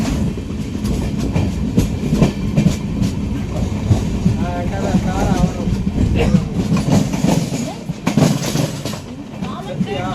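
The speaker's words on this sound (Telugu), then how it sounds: "ట్రైన్ కంజికోడే రైల్వే స్టేషన్ నుండి బయలుదేరింది" An Amrit Bharat Express train runs after departing Kanjikode station, giving a loud, close, continuous rumble with rhythmic wheel clatter and occasional squeals, and some voices mixed in beneath the rolling noise.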